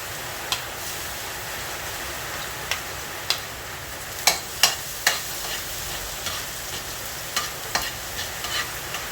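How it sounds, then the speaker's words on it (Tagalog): Garlic sizzles steadily in hot oil in a heated wok for pancit, a continuous frying hiss broken by a few sharp spatula scrapes and taps at irregular intervals. "Maggisa na tayo mga Mars. Unahin natin yung bawang."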